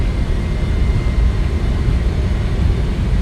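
FSS E-Jet engines spooling at takeoff power in the MSFS2024 flight simulator, a loud, steady broadband roar with no breaks, heard alone without voices.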